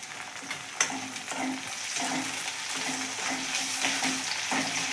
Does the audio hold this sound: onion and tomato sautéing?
yes